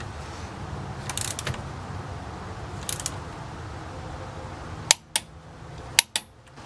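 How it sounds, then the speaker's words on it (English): Hand wrench torquing ball joint bolts on a 1999 Hyundai Elantra: faint mechanical rubbing early on, then several sharp, close metallic clicks near the end as the tool ratchets and breaks over. "Now when you're torquing, you usually want to go up in about 3 increments."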